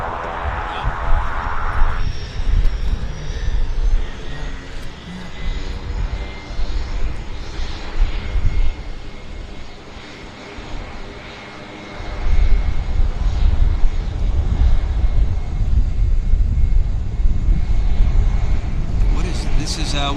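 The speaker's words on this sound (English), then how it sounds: "we've got a float plane" A Kodiak float plane flies near Vancouver Airport, its propeller engine droning steadily throughout and growing louder and fuller in the second half, with people talking over it.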